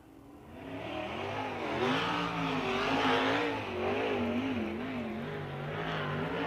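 A USAC sprint car, the Michael Dutcher Motorsports 17 GP, laps the Lawrenceburg dirt track, its engine note rising and falling in wavering pitch as it comes around, loud and close, with no voices over it.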